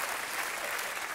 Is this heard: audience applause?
yes